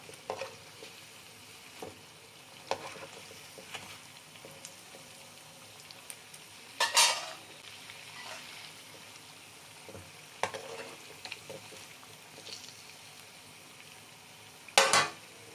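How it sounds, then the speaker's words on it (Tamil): Suzhiyam sweets with a cooked stuffing and an outer batter coating deep-frying in oil, a faint continuous bubbling sizzle broken by occasional louder crackling bursts and a few clinks of stirring. "நம்மளோட சுழியம் பொரியறதுக்கு ரொம்ப நேரம் எடுக்காது"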